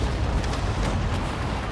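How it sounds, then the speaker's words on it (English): Ship cannons fire in a naval battle in Empire: Total War, heard as loud, dense booming rumble with overlapping blasts that fill the whole moment without a break. "wow, those cannon are loud"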